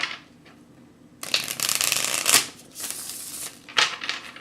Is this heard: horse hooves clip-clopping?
no